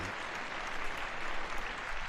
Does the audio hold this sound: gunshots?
no